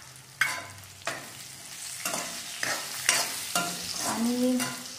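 Drumstick pods sizzle and fry in a hot spiced tempering for a rustic Maharashtrian amti, with repeated scraping stirs against the pan and a steady hiss underneath, close and fairly quiet, with no talking.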